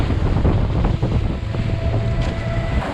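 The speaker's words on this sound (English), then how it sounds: "He's taking us through the copper white water." A boat engine roars steadily while speeding through white water off Bali, water rushing and splashing against the hull, with heavy wind buffeting the microphone throughout.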